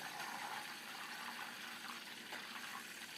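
Ghee butter bubbles hard in a pot over the heat, a dense, steady crackling sizzle filling the whole stretch without pause.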